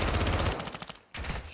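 Rapid automatic gunfire rattles loudly in a Modern Warfare II campaign battle, breaks off briefly, and then starts again as dense bursts.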